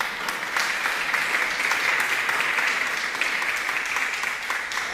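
Steady applause from a church congregation fills the space, a thick, even wash of many hands clapping at constant strength throughout, with no voices rising above it.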